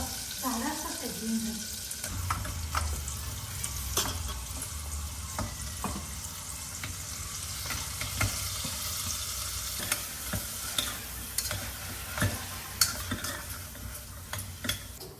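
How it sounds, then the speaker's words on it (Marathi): Tempering with asafoetida sizzling in a home-kitchen pan, a soft continuous fry with scattered stirring clinks and scrapes, fairly quiet, with brief voices near the start. "ही बघा, ही आपली फोडणी झालेली आहे."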